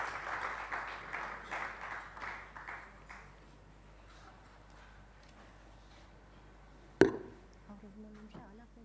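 An audience applauds after a music performance at the Vasanthotsava 2024 concert. The clapping is moderate and fades out over about three seconds, then it goes quiet except for a single sharp knock near the end.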